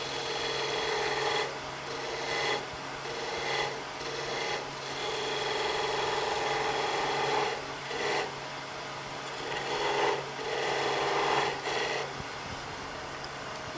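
A skew chisel turns a bead on a wood spindle on a lathe. Repeated short rasping cuts rise and fall over the steady hum of the machine, close and moderately loud.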